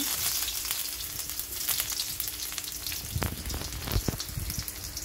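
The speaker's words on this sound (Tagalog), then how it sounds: "Igisa lang natin ang ating sinibak na bawang." Minced garlic sautéing in a hot pan with oil, a steady close sizzle and crackle of frying with a few sharper pops and stirring scrapes near the end.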